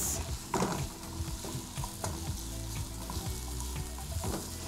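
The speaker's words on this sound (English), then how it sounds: "Give this a nice mix." Basil pesto pasta being stirred in a pot, giving a soft, steady sizzle with wet scraping and mixing sounds throughout, close and fairly quiet, with no talking.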